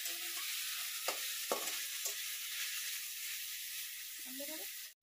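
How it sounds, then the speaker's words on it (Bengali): Chicken sizzles steadily in a frying pan, a continuous broadband hiss with a few soft stirring knocks; a voice speaks briefly near the end. "চিকেনটা বেশি সময় লাগবে না ভাজা হতে।"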